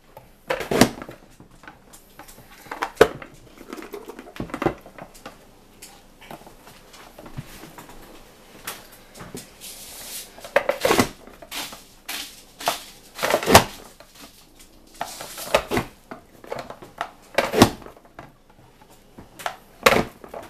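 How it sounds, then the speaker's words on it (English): Sharp chopping clacks of a vegetable chopper cutting soft vegetables come in irregular bursts, some single and some in quick clusters, close by with quiet pauses between. "This thing really does make chopping veggies, soft veggies."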